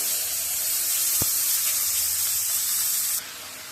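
Vegetables tipped into hot oil with panch phoron and ginger paste give a loud, steady hiss and sizzle, with one sharp click partway through before the sizzle drops slightly near the end.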